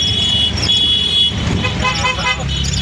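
Car horns honk repeatedly in busy road traffic, a steady high toot over loud rumbling vehicle noise, continuous and close.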